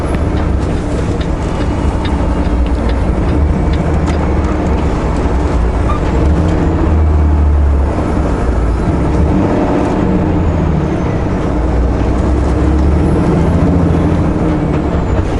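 Steady, loud vehicle rumble on a slushy winter road continues throughout as cars come up from behind and are let past at a pullout after a slow section.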